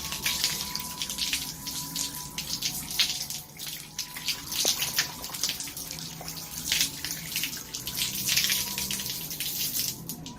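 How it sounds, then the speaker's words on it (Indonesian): Hands are rinsed under a running tap, giving a steady, splashy stream of water that shifts in texture as the hands move through it. "lalu bilas menggunakan air mengalir"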